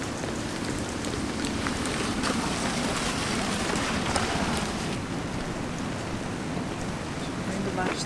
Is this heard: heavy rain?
yes